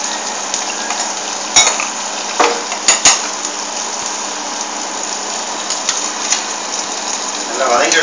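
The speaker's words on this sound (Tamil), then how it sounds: "வெங்காயம் வதங்கின பாத்திரத்தை அதையும் போட்டு இன்னும் கொஞ்சம் வதக்கணும்" Sautéed onions and masala for Mettur-style fish curry fry in a pan, a continuous close sizzle broken by sharp clinks and scrapes of a spoon stirring against the metal.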